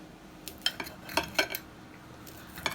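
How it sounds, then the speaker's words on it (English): A knife chops sausage on a board for Southern fried cabbage. The cuts come as a few quiet, irregular knocks and clinks spread across a short stretch, with faint kitchen background and no talking. "I'm just going to go down and cut my sausage up"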